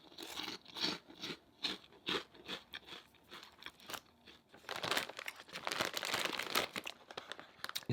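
Someone bites and chews a light, salty Jamaican snack shaped like Bigfoot. Close, brittle crunches come in rapid irregular bursts, with crinkling and grinding that grow denser toward the end, and there is no talking.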